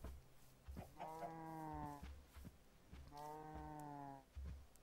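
Cows in the video game Minecraft moo twice, two long drawn-out lowing calls at moderate volume with soft game footsteps around them.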